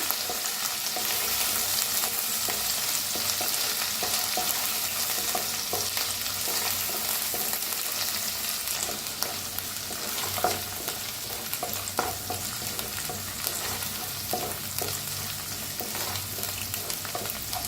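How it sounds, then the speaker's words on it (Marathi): Ground masala with curry leaves roasting over a low flame for a stuffed tomato dish, a continuous close sizzle broken by frequent light spatula scrapes and taps as it is stirred. "बारीक करूनच भाजा सगळं मसाला."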